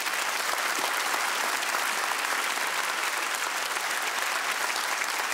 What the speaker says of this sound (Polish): Brawa dla Piotrka.